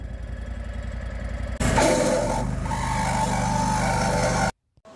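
An engine idles before a mower clutch engages, then the idler pulley with a failing bearing spins up into a loud, harsh, grinding roar that holds for about three seconds and cuts off abruptly.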